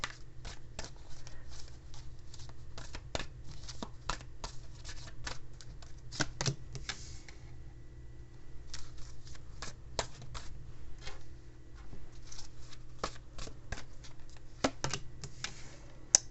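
A tarot card deck is shuffled nearby in rapid bursts of light riffling clicks and flicks, quiet and steady, pausing briefly midway.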